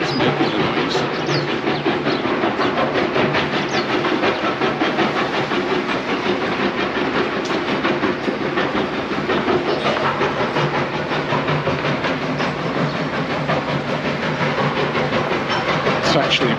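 A construction machine breaking up rocks into sand while digging foundations near Portals Nous, Mallorca, makes a dense, continuous grinding and rattling roar that stays loud and steady throughout.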